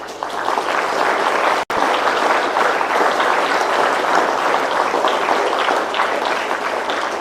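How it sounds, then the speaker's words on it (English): A large audience at a TEDEd school speaker event gives a steady, full round of applause, dense overlapping claps holding at an even level with a momentary dropout partway through. "A big round of applause to them."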